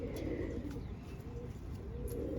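Prized pigeons coo softly and repeatedly, their low murmuring calls blending into a steady throaty burble with faint chirps above it and no voices.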